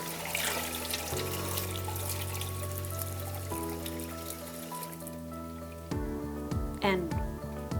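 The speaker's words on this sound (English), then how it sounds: "Wash it down with water." Water from a sink tap runs steadily while a glass plate is rinsed, a constant close splashing hiss beneath background music, with brief clinks and splashes near the end.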